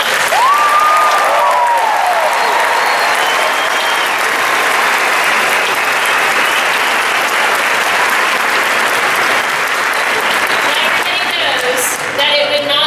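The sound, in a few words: audience applause at a graduation ceremony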